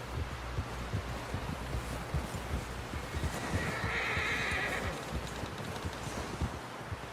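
In Red Dead Redemption II, a horse gives a clear whinny midway, heard over a dense bed of rumbling hoof thuds and low noise, fairly close.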